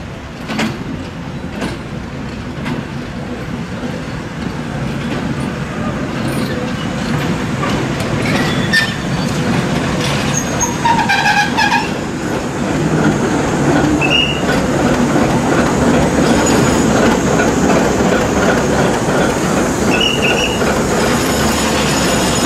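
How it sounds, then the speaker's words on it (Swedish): A locomotive-hauled train rolls past on a railway line in Albania, a steady loud rumble of wheels on rail with metallic clatter and brief high squeals, sustained and close throughout with no talking. "kommer det ännu ett lok."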